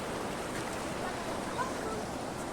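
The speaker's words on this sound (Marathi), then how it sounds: "बघा किती पाणी आहे. पूर आलेला नदीला आमच्या." Broad, continuous roar of a flooded village river rushing past, a close, dense wash of water noise with some wind buffeting the microphone.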